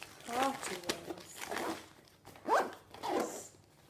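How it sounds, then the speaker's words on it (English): Zipper drawn along a packed school bag several times in short bursts, close and crisp, with crinkling of packaging and a voice talking in between. "I'm just going to zip this up now."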